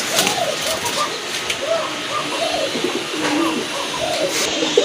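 Large Gopalganj pigeons in a pair coo repeatedly at close range, soft rolling calls overlapping in a loose rhythm over a low background hum.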